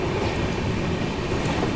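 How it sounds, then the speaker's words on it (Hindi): A Rajdhani Express train departing Ghaziabad alongside a local EMU train produces a steady, close, roaring rumble of wheels and rolling stock, with no voices present. "देखो एक लोकल एमएमयू के साथ पैरेलल डिपार्चर भी हो रहा है अपनी ट्रेन का गाज़ियाबाद से"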